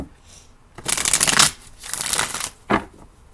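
Playing cards shuffled in quick riffling bursts, three crisp rustling runs with short pauses between, close and fairly loud, no voices.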